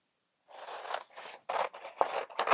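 Scissors snip through excess paper around a printed sublimation image for a mug, giving a series of close, crisp cutting strokes in uneven bursts with short pauses between them.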